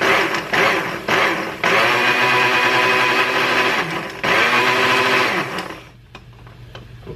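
A blender pulses a lemon pepper vinaigrette made with lemon zest in loud motor bursts, two short pulses and then two long runs, before the whir winds down to near silence.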